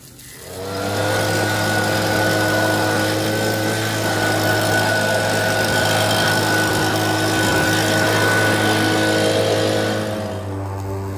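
A Mowrator radio-controlled mower's engine runs steadily, a loud, even motor drone with a constant tonal hum that starts up and holds without pause.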